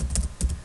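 Keys tapped on a computer keyboard while a web address goes into a browser search bar: three or four soft, close clicks spaced evenly over a low steady hum, no talking.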